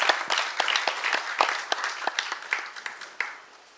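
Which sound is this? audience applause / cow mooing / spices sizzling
audience applause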